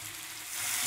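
Cinnamon, cardamom and garam masala fry with tomatoes in a hot pan, giving a soft, steady sizzle with a faint hiss that stays level and close.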